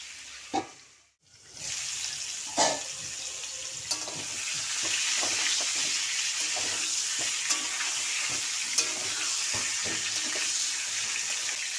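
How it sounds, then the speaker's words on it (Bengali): Pointed gourd frying in a pan with steady hissing sizzle after a brief pause, punctuated by scattered scraping and knocking of a utensil as the pieces are stirred, close and alone. "বন্ধুরা, একটু ঢাকনাটা খুলে নাড়াচাড়া করে দিচ্ছি।"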